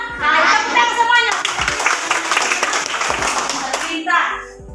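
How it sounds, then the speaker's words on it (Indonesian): Children clap their hands together in a classroom, the claps quick and uneven beneath lively, overlapping chatter and children's voices throughout. "Tepuk tangan semuanya"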